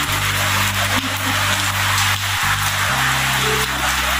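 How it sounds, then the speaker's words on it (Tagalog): Heavy rain from Typhoon Karding falls in Daet, Camarines Norte, as a steady, close hiss, with a low mechanical hum running underneath. "Grabe po ang lakas ng ulan."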